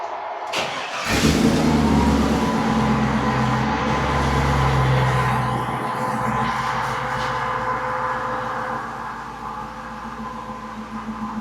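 An old shop truck's engine cranks and catches, then settles into a steady rumbling idle that swells slightly as it pulls away, loud and close throughout.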